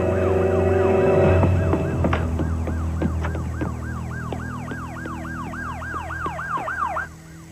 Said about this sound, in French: Ce sont peut-être les sirènes qui lui ont fait peur.